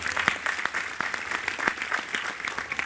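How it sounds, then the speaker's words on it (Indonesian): A smaller gathering at a community event in Mojokerto applauds moderately loudly, with individual hand claps clearly standing out from a thinner, uneven patter. "Tepuk tangan untuk Mojokerto."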